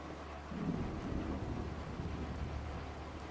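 Thunder and rain in the Fallout 4 video game: a low distant rumble swelling briefly over a steady hiss of rainfall, fairly quiet and with no voices.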